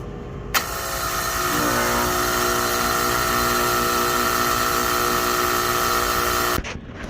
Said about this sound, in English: I want to make sure these condenser fan motors turn on.